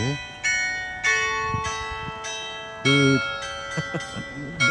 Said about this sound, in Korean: 종소리